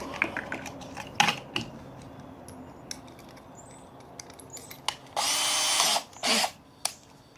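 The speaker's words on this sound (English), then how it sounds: "Something else I like to do before I drill those holes." An electric drill whirs in two short, loud bursts near the end, after a stretch of quiet tapping and handling noises close by.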